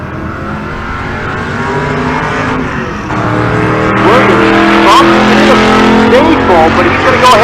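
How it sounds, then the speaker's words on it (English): A Chevrolet Nova drag race car, the Weapon X Nova, runs down the right lane at an outlaw street drag race in Pueblo, Colorado, its engine roar swelling louder as it passes, with an announcer talking over it. "It's Robert Williams, the Weapon X Nova in the right lane."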